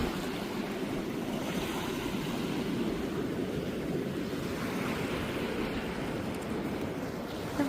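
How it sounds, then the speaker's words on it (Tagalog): Strong ocean waves wash steadily onto Patar Beach in Bolinao near high tide, a continuous broad roar of surf with some wind noise on the microphone and no speech. "Lakas na ng alon."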